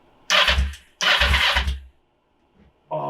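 A Kawasaki Ninja 500R motorcycle engine cranks over twice in loud bursts, pauses in near silence, then begins catching again at the very end, heard close up with no talking.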